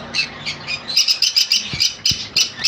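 Yellow-sided conure parrots give repeated sharp, shrill squawks in quick bursts, loud and close, with a few low knocks in between and no talking.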